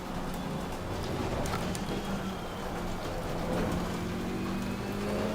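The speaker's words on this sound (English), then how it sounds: "Just as the rain outside has really picked up." Heavy rain falls outside in a steady, dense hiss that fills the background without letup, heard from indoors.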